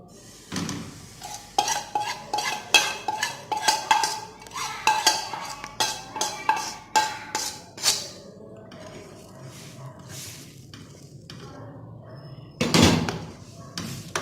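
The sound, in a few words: stirring and cooking kurkure batter in a pan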